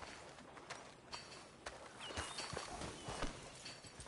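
Horse hooves clip-clop at a walking pace in a PS4 video game, a steady soft rhythm of hoofbeats mixed with faint ambient game sound and occasional bird chirps.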